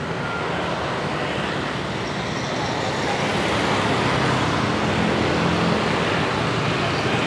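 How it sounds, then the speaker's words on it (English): Steady roadway traffic rolls past during a city walk, a continuous loud rumble of cars and larger vehicles that swells slightly toward the end, with no talking. "Countless traffic."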